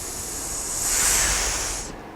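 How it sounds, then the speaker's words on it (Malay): A singer hisses out a breath during a vocal projection exercise, a steady soft hiss that swells slightly and then cuts off after about two seconds, close and with no talk. "Cikgu mula-mula hissing cikgu tu agak perlahan"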